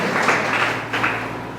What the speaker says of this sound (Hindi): परमेश्वर के जोर से ताली बजाइए